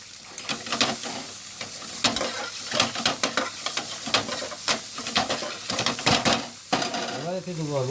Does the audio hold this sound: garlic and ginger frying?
yes